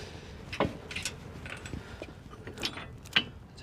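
Metal pins being worked out of the stabilizer arms on an LS MT242H tractor backhoe, giving a few sparse, sharp metallic clinks and taps over a quiet background, with no talk.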